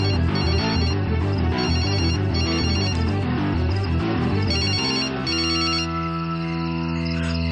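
A phone ringtone plays loudly and close, a repeating melodic tone pattern that runs steadily before shifting to a sustained, smoother section near the end.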